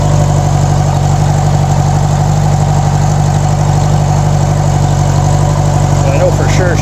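A Honda GL1200A Gold Wing motorcycle bought cheap runs at its first start, a loud, steady low engine drone idling close by without letting up, with a voice faintly under it.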